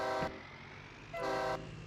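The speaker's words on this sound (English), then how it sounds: "I'm gonna rip that train horn out of that truck." A truck fitted with a train horn sounds in Farming Simulator 22 on a cattle ranch, two loud sustained blasts, a short one then a longer one after a pause, over low engine rumble.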